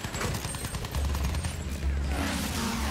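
Weapon fire in Battlefield 1 comes in a dense, rapid string of loud shots, with a low engine drone rising beneath them partway through.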